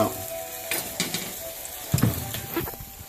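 Onions and garlic sautéing in a pan, a steady quiet sizzle with a few scraping stirs and light clinks of a utensil against the pan.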